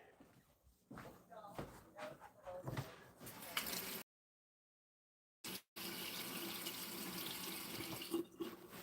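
Water pours steadily from a tap into a sink with splashing. People talk over it. The sound cuts out briefly, then the running water comes back.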